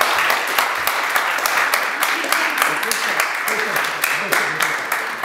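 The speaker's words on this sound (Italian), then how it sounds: "un grande applauso" A crowd applauds with steady, dense clapping that carries on throughout, some sharper individual claps standing out near the front.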